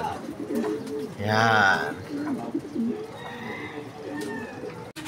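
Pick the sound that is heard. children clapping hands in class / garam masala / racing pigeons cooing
racing pigeons cooing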